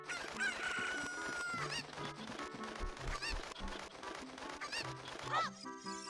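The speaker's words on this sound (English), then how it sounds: "Chicken." Chicken clucking and crowing from The Legend of Zelda: Ocarina of Time, repeated bird calls over steady game music and effects, loud and close throughout.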